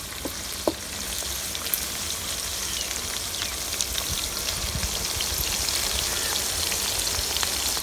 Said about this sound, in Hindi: भिंडी को हम अच्छी तरह भूनेंगे ताकि इसमें जो कच्चापन है वो ख़त्म हो जाए